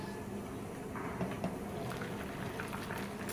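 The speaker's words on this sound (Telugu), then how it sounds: "మూత పెట్టేసి అన్నం ఉడికేంత వరకు ఉడికించుకోండి" Vegetable khichdi rice with mint and coriander simmering in a covered pot, a faint, steady bubbling with soft irregular pops that continues evenly throughout.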